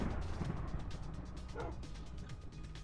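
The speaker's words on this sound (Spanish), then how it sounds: "El perro aquí sigue. Al menos le acabo de oír." A dog barks a few times in the game Minecraft, short yips set against a busy, noisy game soundscape with other thuds and effects.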